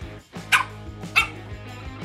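A dog gives two sharp barks close by against a low background hum, with a short pause between them.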